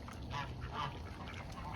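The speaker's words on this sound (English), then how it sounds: "Oh, what are you ducks trying to do?" Ducks honk and quack in a noisy cluster nearby, several overlapping calls over a low rumble.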